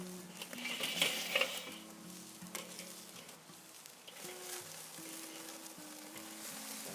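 Ribeye steaks sear on a Weber kettle grill, giving a steady moderate sizzle with occasional louder crackles and faint clinks near the start, and no talk.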